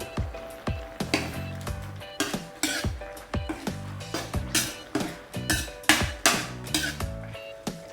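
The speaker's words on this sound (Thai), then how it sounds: "ช่วงนี้ผัดอย่างเดียวเรา" Spicy seafood being stir-fried in a pan with fresh peppercorns, fingerroot and chilies: a metal utensil clanks and scrapes against the pan in a steady, fast rhythm, close and fairly loud, with no voices.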